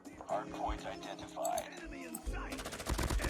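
M13 assault rifle fire in Call of Duty: Mobile: rapid automatic bursts heard close, mixed with game effects, with a sharper dense burst near the end.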